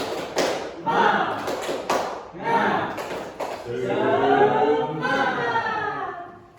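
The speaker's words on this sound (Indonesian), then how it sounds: "Tepuk semangat." Classroom of students doing a rhythmic spirit clap, a burst of quick hand claps and taps in a patterned beat, followed by a group chant of voices.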